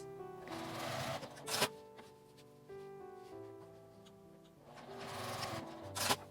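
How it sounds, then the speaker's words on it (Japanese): A sewing machine basts handles onto a fabric tote bag in two quick bursts of rapid stitching, each ending with a sharp clack, separated by quieter handling sounds. "紐を仮縫いします。"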